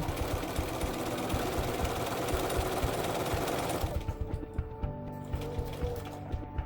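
A sewing machine stitches two pieced fabric seams with a rapid, even mechanical chatter that runs continuously at first, then slows into separate, spaced stitches, close and moderately quiet.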